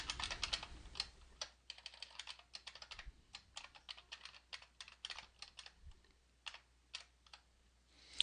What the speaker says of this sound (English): double-click in the expression area, and type the expression